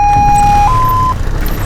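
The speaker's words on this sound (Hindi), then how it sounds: "एम्बुलेंस भी आ गई।" An ambulance siren sounds loud and near in two sustained tones, a long steady note followed by a shorter higher one, over low rumbling background noise.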